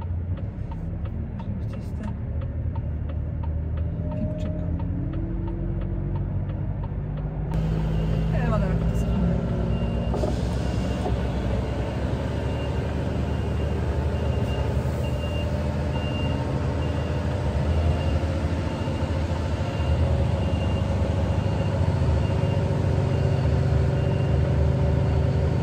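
A truck reverses with its backup alarm beeping steadily in a regular pulsing rhythm over loud engine rumble, continuous and close throughout.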